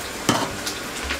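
Garlic sautéing in a hot pan gives a short burst of sizzle and stirring scrapes against a low, steady frying hiss.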